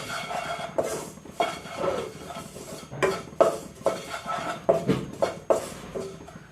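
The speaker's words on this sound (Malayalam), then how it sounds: "ഈ പൊടികളുടെ ആ പച്ചപ്പൊന്ന് മാറുന്നത് വരെ ഒന്ന് വറുത്ത് കൊടുക്കാം." Dry-roasting chilli powder and spices in a pan, a spoon scraping and tapping against the metal in steady repeated strokes, close and clear with no talk.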